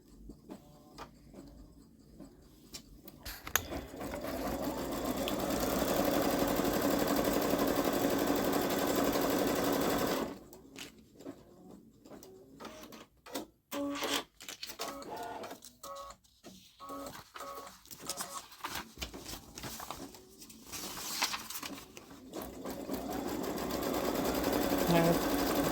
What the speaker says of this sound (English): I'm going to go ahead and put this in the machine, and I'm going to go ahead and stitch the placement lines